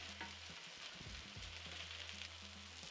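Quinoa and rice with carrots sizzling and frying in a hot pan, a steady, close crackle with a few soft stirring clunks in the middle and a low hum underneath, with no talking.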